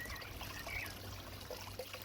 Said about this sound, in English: That's a lot of water movement.